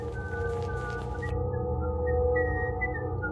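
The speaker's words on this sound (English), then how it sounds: "I feel like I've heard that whistle before." A whistled tune sounds in the Distraint video game, a clear, sustained melody of a few held notes over a low droning background, heard alone with no voices.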